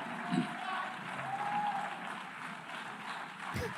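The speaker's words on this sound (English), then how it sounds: "Look at the Italians standing up applauding." Delegates applauding in the UN General Assembly hall, a faint, distant spread of clapping under a murmur of voices, with a few louder sounds rising near the end.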